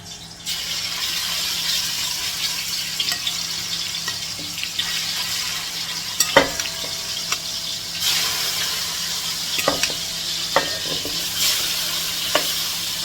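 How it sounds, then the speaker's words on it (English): Small ribs and pork chops sear in canola oil, a continuous bright sizzle close by, with occasional clunks and scrapes as the meat is moved in the pan. "We're gonna sear this really good"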